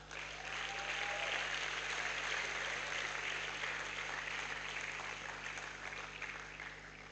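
Faint, steady applause from an audience at a university matriculation ceremony, a soft continuous wash of many hands clapping, distant and even throughout with a low hum underneath.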